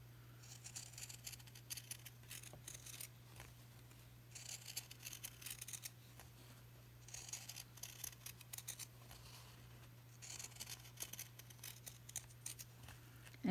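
Pinking shears snip through fabric around the seam of a doll head in bursts of quiet crisp cuts, close and soft, with a steady low hum beneath.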